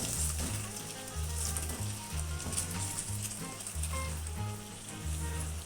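Pumpkin sabzi sizzles and crackles steadily in a hot pan while spices are stirred in, with rhythmic low scraping strokes of the spoon repeating under the frying, close and continuous with no talking.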